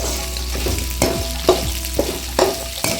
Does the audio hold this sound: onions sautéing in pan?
yes